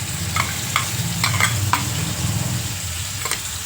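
A ground paste stirred into softening onions in a hot pan, a steady low sizzle broken by several short scraping strokes of a spoon, close and fairly loud with no talking.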